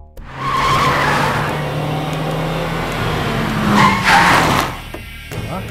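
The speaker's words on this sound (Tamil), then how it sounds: "ஏன்டா இவ்வளவு வேகமா காரை ஓட்டு வர?" A car tears along at speed with loud tire skidding and squealing, engine roar rising and falling in a movie chase scene, no talking over it.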